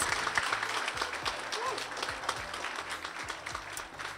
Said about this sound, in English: And give him a round of applause for that.